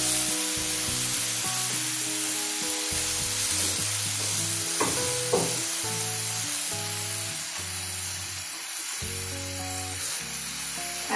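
Bitter melon frying in a hot pan gives a loud, steady sizzle, with sharper crackles about five seconds in as water is added. Tonal background music plays throughout, and no one speaks.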